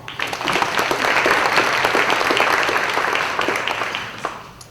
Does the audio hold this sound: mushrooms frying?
no